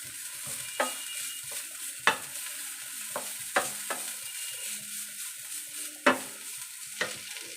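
Grated radish sizzles steadily in a hot pan while a spatula stirs it in a string of sharp scraping strokes, close and continuous.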